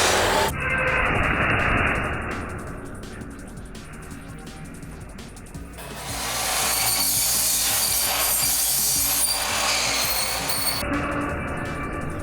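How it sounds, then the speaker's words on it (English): A knife slits open the side of a cardboard box for a Vegue VM30 gaming microphone, giving a steady scraping, rasping cut that runs for several seconds, then a louder, rougher tearing drag near the end. "I think we'll just have to carefully slit open the side of the box here."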